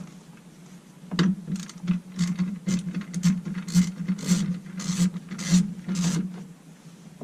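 Screws are turned out of a steering wheel cover with a tool, a string of soft rhythmic squeaks and scrapes following one after another.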